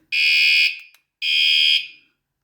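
A loud, piercing electronic alarm tone from a bicycle anti-theft alarm blares twice in long, even bursts, with a brief silence between them.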